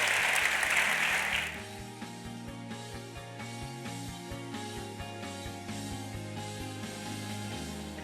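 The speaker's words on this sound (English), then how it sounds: "Let's give them one more round of applause" A short, loud burst of applause from the audience at a women's health panel event lasts about a second and a half, then cuts off as music takes over.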